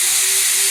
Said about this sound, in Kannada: ಅಲ್ಲಿ ಕುಕ್ಕರ್ ವಿಷಲ್ ಹೊಡಿತೈತೆ